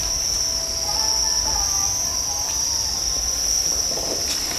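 Crickets in breeding boxes on a cricket farm give a dense, continuous high-pitched shrill trilling chorus, steady and loud throughout, with a faint low hum beneath.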